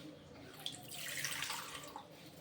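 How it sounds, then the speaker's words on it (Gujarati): A short splash of water pouring into a pan for making tea, rising and then tapering off, close and moderately quiet. "થોડુંક પાણી નાખશું"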